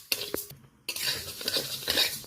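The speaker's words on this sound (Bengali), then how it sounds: "যত সময় পর্যন্ত না একটা সুন্দর অ্যারোমা বেরোচ্ছে, তত সময় কন্টিনিউয়াস এইভাবে নেড়ে নেড়ে মুগের ডালটা নিয়ে ভালো করে" Mung dal being stirred as it dry-fries in a pan, a utensil scraping and clattering against the metal in repeated strokes with a faint sizzle beneath, close and moderately loud, no talking.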